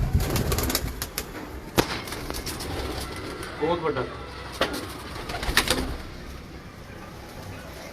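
Pigeons coo softly in the background amid rain and sharp clicks, while someone talks over them.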